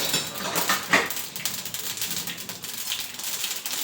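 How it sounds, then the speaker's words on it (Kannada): Mustard seeds spluttering in hot oil for tomato rasam, a close, busy run of sharp little pops and crackles over a low sizzle, with no talking. "ಸಾಸಿವೆ ಹಾಕ್ತಾಯಿದ್ದೀನಿ ಫ್ರೆಂಡ್ಸ್. ಸಾಸಿವೆ ಸಿಕ್ಲುತ್ತಾ ಇದೆ."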